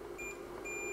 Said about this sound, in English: Let's remove power and check for continuity between this leg and the chassis.